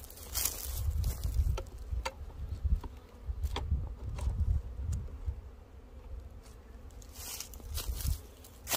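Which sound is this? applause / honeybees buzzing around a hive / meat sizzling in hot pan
honeybees buzzing around a hive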